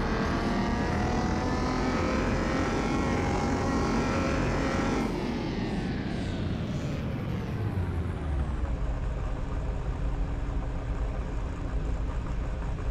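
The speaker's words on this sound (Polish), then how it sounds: "Turbo się dołączyło." Turbocharged GTR engine fitted in a GMC in Car Mechanic Simulator 2021, revving loud and close with a rising whine that peaks, then drops sharply and winds down to a lower, settling drone.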